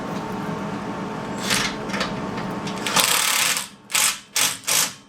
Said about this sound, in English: Now he's going to tighten that muffler clamp